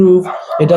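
Dogs barking indoors, a loud, close pair of yips or barks in quick succession, heard in the middle of a live debate.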